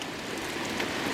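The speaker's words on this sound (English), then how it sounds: "this is the most rain we've had all day" Heavy rain pours in a dense, steady hiss with a soft patter of drops, close and continuous for a brief moment.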